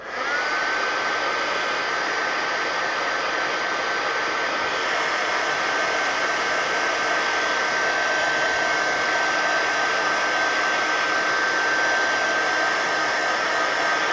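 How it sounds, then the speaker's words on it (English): A heat gun blows steadily to dry paint splatters on mixed-media collage art cards, producing a constant loud whooshing hum with a thin whine that runs unbroken from start to end, with no voices. "keep your heat gun moving, because you'll bubble up your collage bit"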